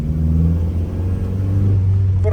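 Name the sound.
Chinese-assembled car with Toyota Corolla 1.8 engine driving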